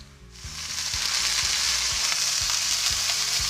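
Turkey breast browning in a hot frying pan, a loud, close, steady sizzle that swells as the meat settles in and keeps crackling throughout with no talking.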